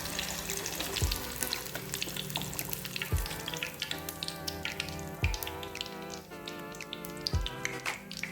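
Sukhiyan sweets frying in hot oil give a constant fine crackle and bubble, with a few sharp thumps from scooping at intervals.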